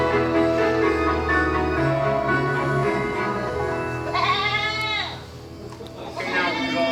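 Goats bleat near a pungent spot by a roadside, several wavering cries rising over a steady low hum and a murmur of voices, with one long quavering bleat standing out near the end.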